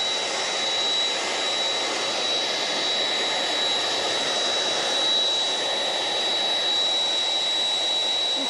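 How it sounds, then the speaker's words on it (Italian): Loud, steady roar of jet aircraft engines, a continuous broadband rumble that holds without pause, with no voices over it. "sentite anche il forte rombo dei motori"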